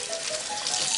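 Tap water running steadily while sausage casing is rinsed through in a kitchen, a continuous close hiss and splash with no talk.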